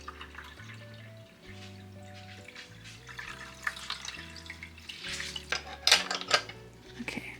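Water pours and splashes into a LetPot hydroponics unit in a home setting, light trickling and clinking over quiet background music, growing busier toward the end.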